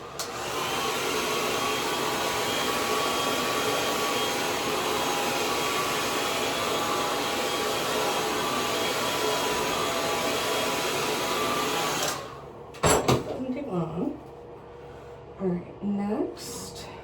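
A hair dryer drying the skin around an ileostomy stoma, a steady loud whooshing drone that runs for about twelve seconds before switching off, followed by a few handling bumps and a person speaking.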